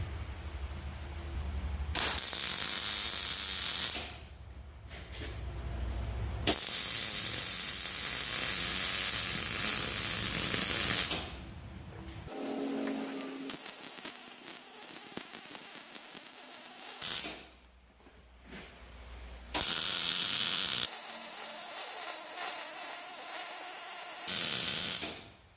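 Arc welding on a worn snowplow, crackling and sizzling loudly in long bursts separated by brief pauses, with a few quieter mechanical stretches between welds.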